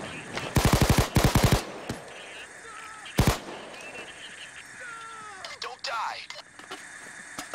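Automatic gunfire from a Payday 2 assault: a dense rapid burst of shots near the start, then a single loud blast, followed by quieter game sounds with radio-like chatter and whistling effects.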